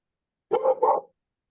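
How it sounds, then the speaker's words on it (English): Dogs bark in a short double burst, one bark quickly followed by another, fairly close and clear against an otherwise quiet room during a hobby robotics club meeting. "We got dogs barking."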